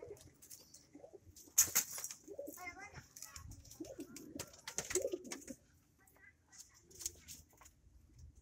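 Racing pigeons in a loft coo in soft, low rolling calls that recur through the clip, mixed with fluttering, shuffling and a person speaking nearby.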